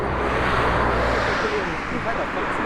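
Afternoon car traffic on a road sounds as a continuous loud rushing roar of passing vehicles with wind-like noise, while a person talks over it.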